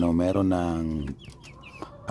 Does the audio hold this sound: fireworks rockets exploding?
no